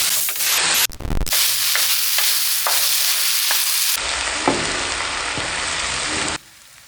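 Tomatoes frying in a pan for a chempalli fish curry, loud sizzling broken by several sharp stirring scrapes and abrupt cuts in the sound.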